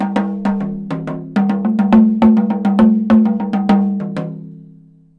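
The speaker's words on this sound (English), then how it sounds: "The Japanese uchiwa daiko are these instruments here." Japanese uchiwa daiko fan drums played melodically in a percussion piece, rapid resonant pitched hits in a flowing pattern over a sustained ringing tone, close and fairly loud before fading out.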